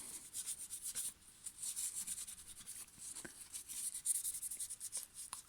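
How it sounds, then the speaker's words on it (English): Dust is rubbed off a Roomba robot vacuum around its LED, giving quiet, close, dry rubbing strokes in an uneven back-and-forth rhythm with brief pauses. "Around the LED, I recommend to rub it like this."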